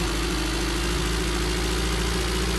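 A pickup truck's engine idles in the driving game Pickup, a steady low rumbling hum that holds at an even level throughout with no talking.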